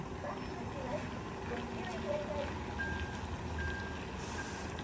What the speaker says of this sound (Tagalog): Denso, backhorn.